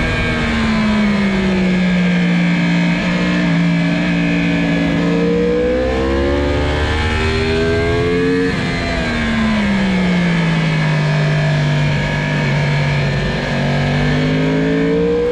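A 2020 Yamaha R1 motorcycle's engine screams close by on the Jerez race circuit, its pitch climbing through gear shifts, dipping, then rising again as it speeds along, with no talking.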